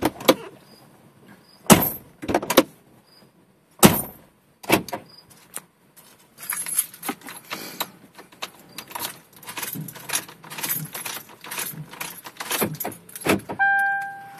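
Keys jangling and door locks cycling on a 2004 Mercury Grand Marquis during remote programming: sharp, close clunks and clicks spaced irregularly, followed by a denser run of key rattles and lock actuations, with no talk.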